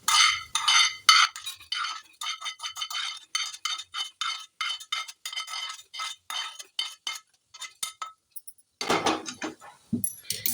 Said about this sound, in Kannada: ಈಗ ಇದನ್ನು ಒಂದು ಪ್ಲೇಟಿಗೆ ತೆಕ್ಕೊಳ್ತೇನೆ